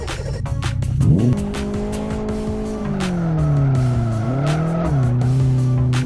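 A rear-wheel-drive car drifting under the handbrake lets out a loud, sustained tire squeal, rising sharply after a second and then wavering in pitch as the slide continues, with the engine droning beneath it.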